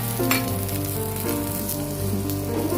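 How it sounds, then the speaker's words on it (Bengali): Eggplant pieces seasoned with salt and turmeric fry briefly in a pan, giving a steady, close, loud sizzle with light crackling throughout and no voices. "বেগুনগুলো আমি একটু ভেজে নেব অল্প করে।"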